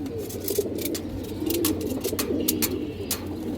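A black female pigeon of the jack breed coos in low, steady murmuring pulses among other birds, with a constant background hum and a few faint higher chirps.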